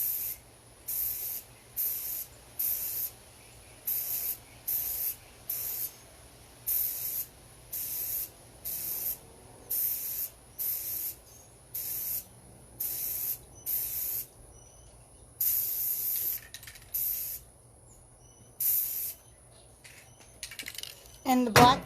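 Black spray paint sprayed in repeated short bursts onto the bottom half of a piece, about a dozen loud hissing blasts with brief gaps in a regular rhythm, a longer burst near the end.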